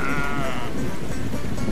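Sheep bleat loudly and close in a sheep-farming video game, one drawn-out wavering bleat followed by continuous rough farm-animal noise.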